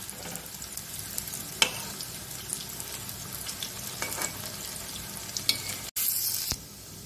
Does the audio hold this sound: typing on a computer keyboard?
no